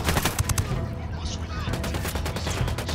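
Rapid bursts of automatic gunfire crack repeatedly in the tactical shooter Ghost Recon Wildlands, dense and close, with faint radio-style chatter in the background.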